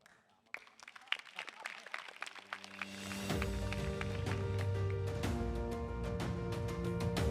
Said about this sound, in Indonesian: tepuk tangan sekali lagi untuk acara yang sangat luar biasa hari ini.